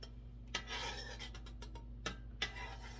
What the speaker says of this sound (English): You can probably hear me stirring it.